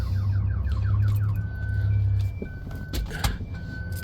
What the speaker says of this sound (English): Sounds like somebody's stupid 90s car alarm.